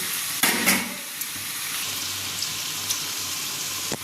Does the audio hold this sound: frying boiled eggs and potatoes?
yes